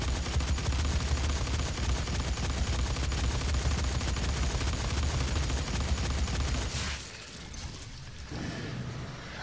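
Dense, continuous automatic gunfire from the DOOM beta video game roars loudly for several seconds, then briefly drops away before resuming more faintly.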